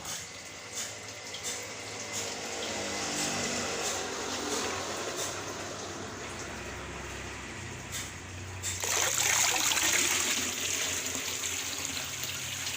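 Water gushes steadily out of a pond filter with a constant broad rush that swells louder and brighter near the end, with no voices.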